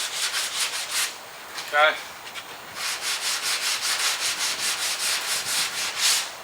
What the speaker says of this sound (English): all I'm doing is lightly sanding that